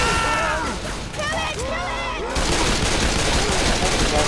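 Bursts of gunfire in Left 4 Dead rattle close and loud in rapid volleys, mixed with shouting players and in-game voices, then settle into a denser, constant crackle of shots.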